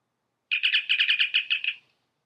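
A phone text-message alert that plays a bird chirp: one quick, bright run of about ten rapid tweets lasting under two seconds, loud and close, with no talk over it.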